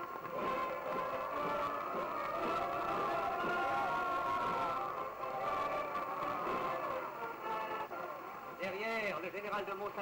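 A crowd cheering along a French military victory parade heading toward the Place de la Concorde, a steady roar of acclamation beneath a narrator's continuous speech.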